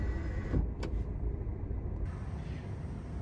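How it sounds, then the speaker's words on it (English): The electric sun blind under the panoramic glass roof of a Peugeot 207 SW opens, giving a brief, faint motorised whir inside the car cabin. "There's a sun blind that opens electronically."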